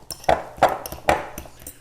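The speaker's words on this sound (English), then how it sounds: "I'm going to just stir it, fold it all in to my ground beef" Utensil stirring parsley and garlic into ground beef for meatballs in a bowl, three sharp clinking knocks against the bowl with soft scraping between, close and clear.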